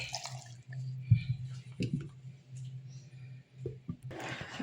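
Water poured into a blender jar of green mango juice gives a soft, fairly quiet trickle and drip over a low hum, ending in a brief louder splash.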